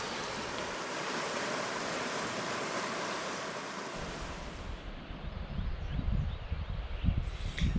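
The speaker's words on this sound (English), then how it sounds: "The sound of a rushing mountain creek" A rushing mountain creek in the Gros Ventre Wilderness, Granite Creek, gives off a steady broad roar of flowing water, with low wind buffeting on the microphone growing stronger toward the end.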